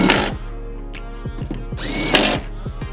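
Power tool tightening taillight bolts on a 2008-2017 Mitsubishi Lancer, a steady close whirring motor with rhythmic pulsing clicks and a couple of brief louder bursts.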